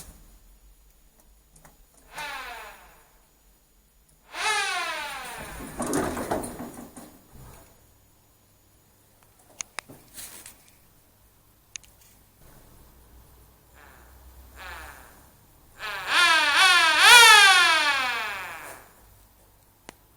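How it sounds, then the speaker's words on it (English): A small Minimite motorized siren winds up in rising, wailing sweeps, starting and stopping in several loud bursts with quiet gaps and clicks between them, the last run the longest and strongest. "Oh yes, the Minimite Motorized Siren"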